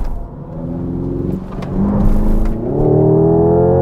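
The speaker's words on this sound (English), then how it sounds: "Those exhaust crackles are pretty hilarious." A Hyundai 8-speed electric car accelerates with a synthesized engine note that climbs in pitch through stepped shifts, loud and close, with sharp crackling pops between gears.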